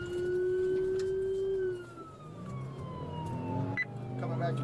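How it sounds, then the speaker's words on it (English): A police car siren wails nearby, its tone sliding up and down over several seconds while an engine and road noise run underneath. "Sirens drove me nuts."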